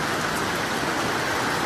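Rain falls as a steady, dense hiss with no voices, a continuous wash of drops close by.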